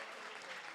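A church congregation claps during an Easter sermon, a short, dense, faint wash of applause with no voices over it.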